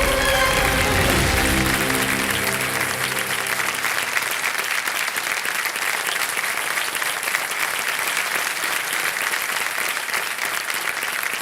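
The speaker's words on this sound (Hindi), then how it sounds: "आइए जोरदार तालियों के साथ एक बार फिर से स्वागत।" Loud, sustained applause from a large crowd welcoming guests onto a stage in India, a dense, even roar of clapping that follows a brief fading musical tone and carries on strongly without a break.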